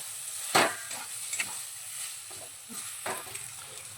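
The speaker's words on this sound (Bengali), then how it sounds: "তেলের মধ্যে ডালটা খুব ভালোভাবে ভেজে নেব।" Ground split pea paste fries quietly in hot oil, a soft, faint sizzle broken by a few sharp scraping strokes as the paste is stirred around the pan.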